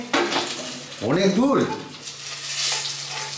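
Vegetable chorchori and khichuri cook in pots in a home kitchen, with a soft sizzle of frying and clinks of stirring heard close by under a brief stretch of a voice.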